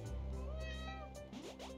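A cat meows in the video game A Space for the Unbound, a few short, close mews over a steady low game backdrop, with no talking.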